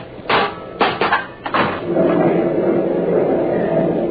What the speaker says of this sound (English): This is it, Chatterbox. Open the outside door.